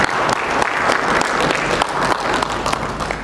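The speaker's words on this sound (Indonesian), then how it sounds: "Kita beri tepuk tangan untuk kita semua." Audience applause at the Sensus Ekonomi 2016 launch and socialisation event in Aceh Province, a steady dense wash of clapping from a crowd filling the room throughout, loud and continuous with no break.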